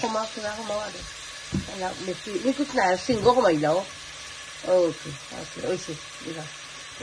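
Onions with garlic and salt fry in a handi, giving a steady soft sizzle underneath someone talking throughout.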